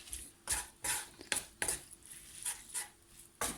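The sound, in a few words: stirring a mixture with a wooden spoon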